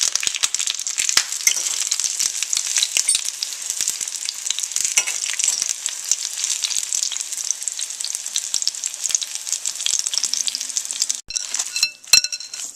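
Eggplant and onion fry in a pan with a steady, dense sizzle throughout. A few sharper clinks and stirring knocks come near the end.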